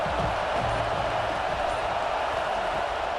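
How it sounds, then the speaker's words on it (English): Stadium crowd at an AAF 2.0 pro football game, New Orleans Breakers at Denver Gold, roars in a steady, dense wash of cheering and noise throughout, with no distinct voices standing out. "This crowd bringing the energy and noise early."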